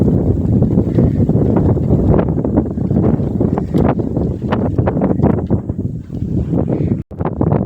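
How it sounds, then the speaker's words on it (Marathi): Strong wind buffets the microphone on the Asherigad hill fort in Maharashtra, a loud, continuous roaring rush with gusty swells that holds steady throughout and drops out briefly near the end. "खूप वारा येते खूप"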